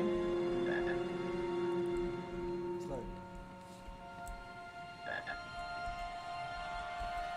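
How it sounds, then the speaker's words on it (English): Chocolate frog from the Harry Potter and the Chamber of Secrets video game croaking in short repeated bursts over steady game background music, with a voice talking throughout. "A chocolate frog."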